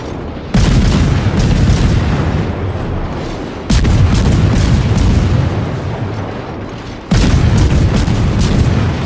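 Heavy naval gunfire from warships in World of Warships, including a Yamato battleship: three massive booming salvos, each a sharp onset that rolls into a long, dense rumble, loud and close, with no talk over it.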